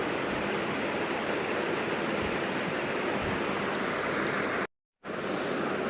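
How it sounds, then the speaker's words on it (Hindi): A steady rushing stream of water, four cups, pours continuously into a pressure cooker holding mutton, broad and hissing, with a brief gap of silence near the end. "इसके अंदर हम अब 4 कप पानी ऐड करेंगे।"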